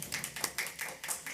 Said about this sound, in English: yeah, you can applaud that.